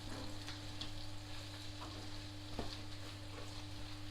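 Beef lasagna filling cooks in a pan with a steady, close sizzle and soft frying crackle, a low hum running underneath, a few brief clicks of a utensil against the pan, no voices.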